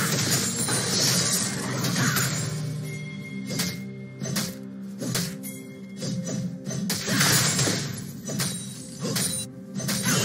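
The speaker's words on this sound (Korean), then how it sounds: "파랑 팀의 포탑이 파괴되었습니다" Tower destruction in League of Legends during a Wukong versus Sett top-lane match, with a run of loud smashing and crashing impacts, sharp cracks and thuds that sit over dense game effects and continuous background music.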